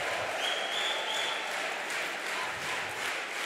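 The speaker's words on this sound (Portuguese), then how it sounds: "Pode aplaudir, pode aplaudir." Catholic church congregation applauding, a continuous wash of clapping and crowd noise lasting a few seconds at moderate, even loudness.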